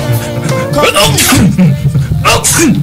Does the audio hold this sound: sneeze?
yes